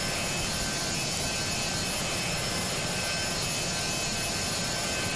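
Steady, loud roar of a Learjet 35 jet engine in a flight simulator, a constant broadband whine and rumble that holds unchanged throughout with no other sounds.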